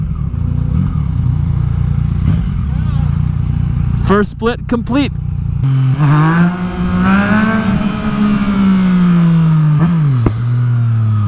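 A KTM Super Duke motorcycle roars loud and close, its engine revving and climbing through the gears while lane splitting in traffic, with a rider's voice speaking briefly over it.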